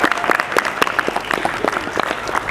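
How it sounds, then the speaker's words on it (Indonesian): A school event audience in Indonesia breaks into brief, dense applause, many hands clapping together at close range. "Tepuk tangan sekali lagi."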